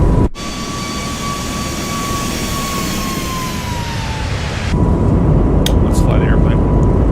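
An Airbus A220 jet takes off in a flight simulator game, a loud steady engine roar with a thin whine that slowly falls, swelling slightly near the end as a voice speaks briefly over it.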